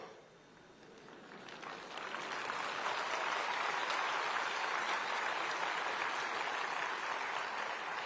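Audience applause during a prime minister's speech at an education summit, starting faint and swelling after about two seconds into a steady, dense wall of clapping that holds to the end.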